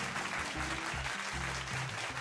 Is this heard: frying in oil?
no